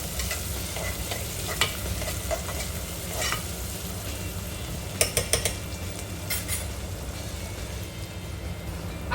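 Chopped onion and tomato frying in a pan, a loud, dense sizzle with a spoon stirring and occasional sharp clicks against the metal, close and continuous, without speech.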